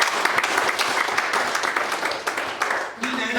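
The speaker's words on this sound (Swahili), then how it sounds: "Yesu makofi" A church congregation clapping in praise of Jesus, a continuous wash of many hands close by that keeps going for several seconds, with a voice talking over it near the end.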